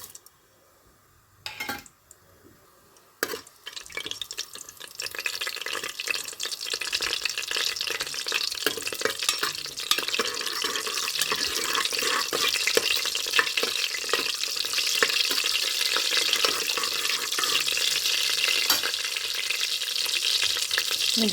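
Whole biryani spices frying in hot oil in a pot make a steady, loud sizzle that swells after a few quiet seconds and then holds for a long stretch, with a few light clinks and no speech.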